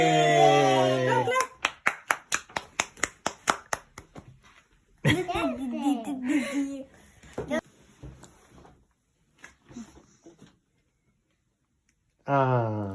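Several people clap in a quick run of about ten sharp, loud claps. Cheerful voices talk and call out before and after it.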